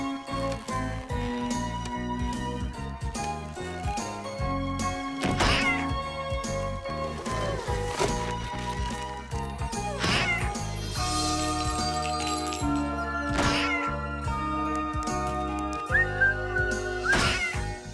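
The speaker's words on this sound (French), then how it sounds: "tu es un très bon chat" Cartoon cat meowing in a French-dubbed animated comedy scene, brief meows and yowls set among a busy, loud musical score with jingly accents, no talk over it.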